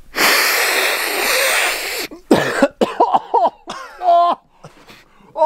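Harsh, loud coughing fit right after snorting ground pepper, a long raspy burst followed by several choking coughs and wheezy, strained vocal gasps close to the mic.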